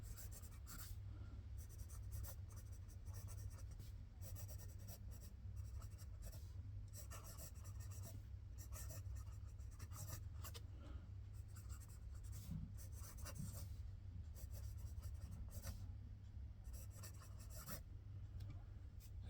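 Leonardo Officina Italiana Momento Magico fountain pen nib scratching steadily across paper, a quick continuous faint rasp of fast writing that runs the whole stretch with no talk, over a low background hum.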